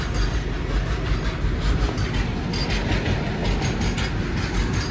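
A long train rumbles past close by, a loud continuous roar with rhythmic clattering of wheels over rail joints throughout.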